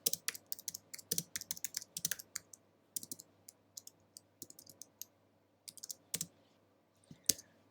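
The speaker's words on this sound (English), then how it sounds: "you can just type here" Keys on a computer keyboard clatter in quick irregular bursts with short pauses between, close and crisp against a quiet background, no voices.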